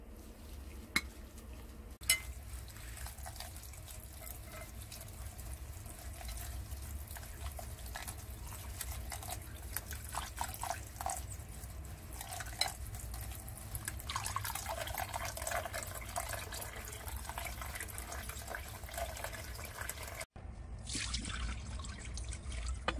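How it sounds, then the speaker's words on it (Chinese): Dried black moss (fat choy) being washed in a little oily water, with steady sloshing, trickling and dripping close by, continuous throughout and ending with a brief gap. "俾少少油落去洗一洗啲发菜"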